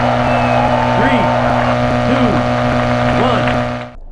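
Looped Toyota Celica engine from the Sega Rally Championship arcade racing game, a loud steady buzzing drone with a tonal chirp repeating about once a second, then cut off abruptly.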